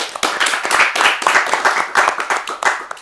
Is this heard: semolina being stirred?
no